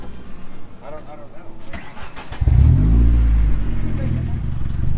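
A demolition derby car's engine turns over and catches, a rough cranking followed by a loud, close rumble that settles into a steady idle, with people talking nearby.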